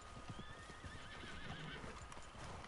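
Horse in the Red Dead Redemption 2 video game, hooves clip-clopping steadily at a walk with a whinny, fairly quiet and continuous with no talk over it.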